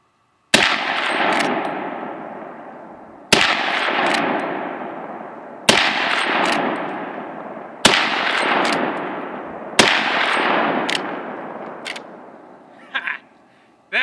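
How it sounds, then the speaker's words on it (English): Marlin 45-70 cowboy rifle fired at a target outdoors, five loud, sharp shots spaced about two seconds apart, each ringing out with a long echoing tail, then faint small clicks. "fire off a few shots"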